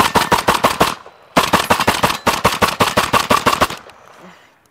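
A Fostech Origin shotgun loaded with slugs from a 10-shot magazine fires at watermelons outdoors in two loud, rapid bursts, about six shots then about twelve, with a short pause between and a fading echo at the end.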